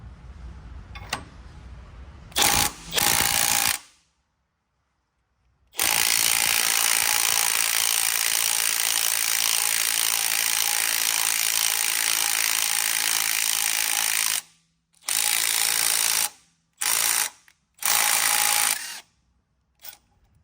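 A puller strains to draw the pulley off a Ford 3.0 crankshaft in several bursts of grinding, ratcheting mechanical noise, with one long stretch and shorter pulls separated by silence.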